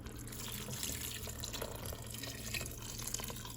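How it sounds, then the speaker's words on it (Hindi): About a cup of water poured into a pot of soup with potatoes, a soft continuous splashing trickle heard close and fairly quiet, with no talking over it. "तकरीबन 1 कप आप इसमें पानी डाल दें"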